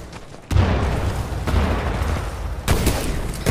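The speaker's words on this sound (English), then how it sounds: "the nade just blew up right next to my body" In the video game Titanfall 2, a grenade blows up close by with a sudden loud burst, followed by rumbling gunfire-like noise and a second sharp blast near the end.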